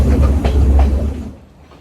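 Rumbling rail noise of a train running from Kandy to Ella in Sri Lanka, with rhythmic clacks of wheels over track joints, loud and close, fading out toward the end.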